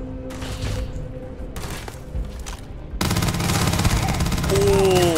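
SMG gunfire in the video game Starfield, short bursts of rapid shots in the first half, then a louder, denser stretch of fire with a rising whine, under occasional speech.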